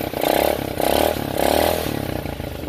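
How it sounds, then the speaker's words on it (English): Small CF Moto (Kandi) 230cc four-wheel ATV engine revving hard three times in quick succession, each burst rising and falling with a rough mid-pitched clatter, close and loud with no talking. "It does rev pretty well."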